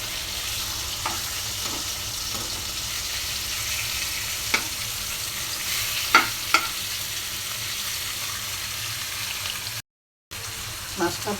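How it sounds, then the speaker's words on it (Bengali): Rohu fish pieces fry lightly in a pan with a steady hiss, broken by a few soft clicks of utensils and a brief cut to silence near the end. "মাছটা হালকা ভেজে নিচ্ছি।"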